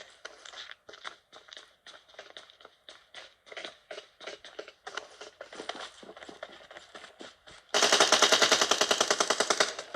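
Gunfire in PUBG Mobile: rapid bursts of small-arms shots crackle steadily, then a much louder, sustained automatic burst erupts near the end, with no talk over it.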